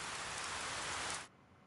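Steady hiss of heavy rain falling in the 428 Shibuya Scramble video game, loud and dense, cutting off abruptly near the end to a much quieter background.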